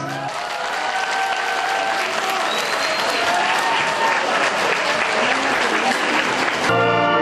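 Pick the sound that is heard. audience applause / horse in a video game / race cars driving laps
audience applause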